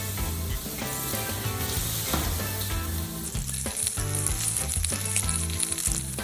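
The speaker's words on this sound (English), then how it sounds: "give it a toss. And let that saute for a couple minutes until it gets just a little bit of color." Sugar snap peas for a tofu stir fry sauté in a hot pan with a loud, continuous sizzle and occasional stirring clatter, heard alone without talking.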